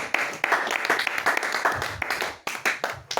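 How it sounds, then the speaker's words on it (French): A church congregation applauds during a French-language service, a close, dense burst of many hands clapping in uneven waves with brief dips, fairly loud throughout. "Tu veux pas continuer à acclamer?"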